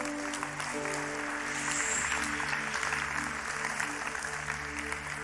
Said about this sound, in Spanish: Dale un aplauso al rey que te hizo envidiable